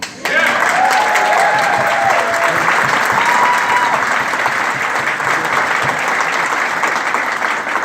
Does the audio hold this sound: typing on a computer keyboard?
no